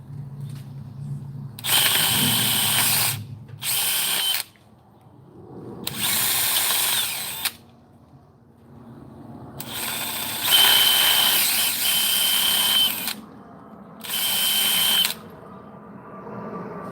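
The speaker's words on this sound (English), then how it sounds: "Drill these out a little bit bigger, that way the bolt can go all the way to the metal." A power drill bores out holes in metal to enlarge them for bolts, running in five or six loud, close bursts of one to three seconds each, separated by short pauses.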